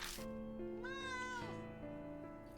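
A cat meows in the video game Spirit Hunter: Death Mark, one clear drawn-out meow, up close and rising then falling, over a quiet background with soft sustained music tones.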